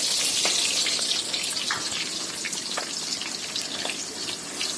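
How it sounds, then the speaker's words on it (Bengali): Chopped onion fries in spiced oil in a pan for beef bhuna, a steady close crackling sizzle with scattered pops and light stirring sounds throughout, no voices. "পেঁয়াজ কুচি দিয়ে ভালো করে ভেজে নিতে হবে, একটু ব্রাউন করে পেঁয়াজ কুচিটা ভেজে নিব"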